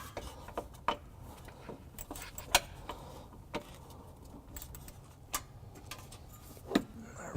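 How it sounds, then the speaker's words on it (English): A 10mm plastic bolt is worked loose on the side of a 2016 Mini Cooper Countryman bumper, with faint close ratcheting ticks and rubbing clicks at an irregular pace. "we'll be removing the other 10mm plastic bolt on the side"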